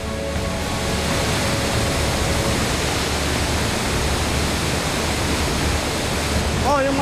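Loud, steady roar of Pagsanjan Falls and rushing river water fills the whole stretch, broadband and unbroken, with a brief faint voice-like sound near the end.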